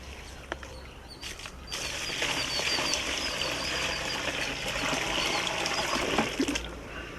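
Water gushes into a bucket holding five kilograms of cow dung, a steady rushing pour that starts after a few faint clanks and continues without talk.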